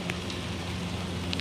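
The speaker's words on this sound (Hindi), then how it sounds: "और बारिश तेज़ हो गई है" Heavy rain pours down in a steady, dense hiss with no breaks, a continuous wash of falling water and occasional brighter drop splashes.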